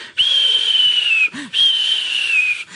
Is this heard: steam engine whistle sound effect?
yes